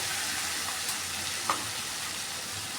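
Soaked cumin spice paste fries in oil for a snakehead fish curry as extra water is poured in, giving a soft, even, continuous sizzle close by with a small splash and no voices.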